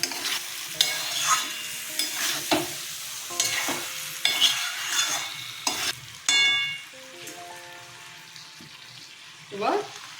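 Potatoes and pointed gourd sizzle in a hot pan while being stirred, with scraping strokes, clinks and bursts of frying under faint background voices.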